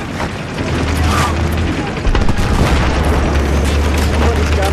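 Explosion detonated in Battlefield 3, a loud booming blast amid ongoing gunfire and rumbling combat noise, with a sharp burst near the middle over sustained low roar.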